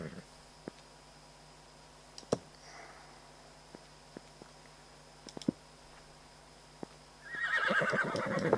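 Scattered faint clicks over a quiet background, then a loud horse whinny bursts out near the end, shrill and wavering, from horses in the game Minetest.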